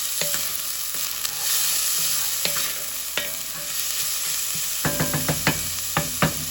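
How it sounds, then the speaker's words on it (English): Spaghetti sauce is stirred in a hot pan, producing a constant sizzle and hiss broken by scattered spoon clicks and scrapes that cluster into a quick series of taps near the end; close by, no one speaking. "we're just going to go ahead and stir it"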